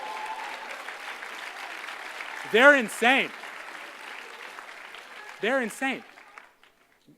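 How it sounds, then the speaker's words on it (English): Applause from a crowd at the 2018 Stanford Law graduation, honoring the Class of 2018, runs as a steady wash beneath a speaker's voice. Brief bursts of laughter or shouts rise over it before it fades out near the end. "give them a round of applause"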